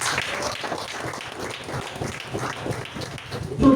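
A church congregation claps in a lively irregular patter during a French-language worship service, steady hand claps blending with voices at a moderate distance for several seconds.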